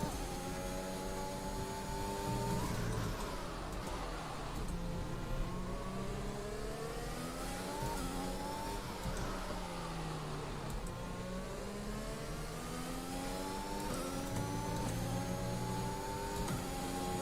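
A Formula 1 car engine in the F1 2021 racing game at the Portuguese Grand Prix, a steady high-pitched whine that climbs and falls through repeated revs and gear changes, continuous and moderately quiet with no talking.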